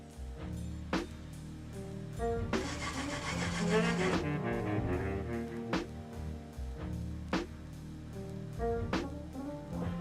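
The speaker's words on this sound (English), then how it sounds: "I'll clean up whatever material is remaining with my chisels" Chisels paring leftover wood from dovetail tails on a wooden headphone and controller stand, soft close scraping and rubbing strokes with sharp occasional taps and a longer rasping stretch midway, over quiet background tones.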